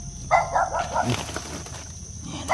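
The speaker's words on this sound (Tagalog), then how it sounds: "Yan ang aso." A dog barks a few quick times at moderate distance outdoors, followed by quieter rustling, with another short bark at the end.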